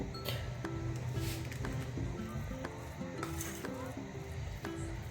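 A spoon mixes fried broad beans with onion and dried chilli in a bowl for sim bharta, close clinks and scrapes of metal repeating in quick irregular rhythm over a soft background hiss.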